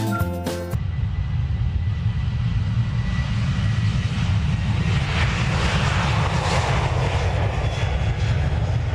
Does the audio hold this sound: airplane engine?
yes